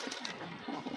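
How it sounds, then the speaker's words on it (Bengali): Soft coos from a racer pigeon kept in a loft, a few low murmuring calls close by over a steady bed of background noise. "খুবই একটা সুন্দর কবুতর"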